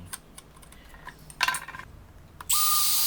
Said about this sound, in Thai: ตัวนี้เจาะรูให้แก๊สออกนะครับ